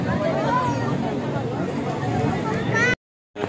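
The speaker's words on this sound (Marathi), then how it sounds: "गर्दी जाम आहे पण." A continuous babble of a large crowd on a busy Lalbaug Ganpati festival street, loud and close, that cuts off abruptly near the end before returning briefly.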